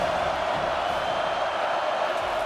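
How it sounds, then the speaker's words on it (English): Football stadium crowd on third down at a college playoff game: a dense, steady roar of noise sustained loudly throughout, with no distinct individual voices. "Decibels rising as the crowd gets behind this defense on 3rd down"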